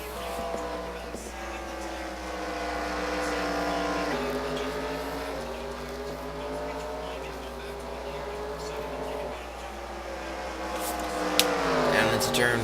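IndyCar race cars at Mosport in a racing video game, their engines holding a loud, steady whine as they run through corners, pitch shifting up and down with gear changes, under constant excited race commentary.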